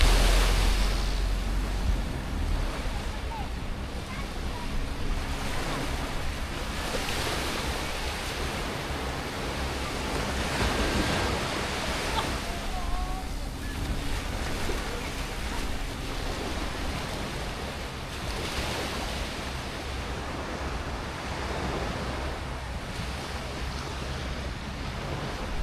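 Sea waves wash steadily onto the beach at Ao Nang in Krabi, a broad, continuous surf roar with gentle swells, heard alone without talk for the whole stretch.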